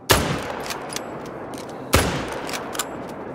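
Rifle shots ring out in the hunting game The Hunter: Call of the Wild, two loud, sharp cracks about two seconds apart, each trailing off in a short echoing tail.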